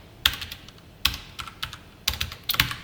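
Fingers tap out several quick bursts of keystrokes on a computer keyboard, each burst a small cluster of crisp clicks with short pauses between, close and fairly quiet.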